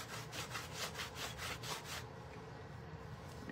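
A soft cloth buffs a surface after cleaning, during a Tamise flake application; a steady, close rubbing swish repeats in even strokes for about two seconds, then settles into a quieter continuous rub.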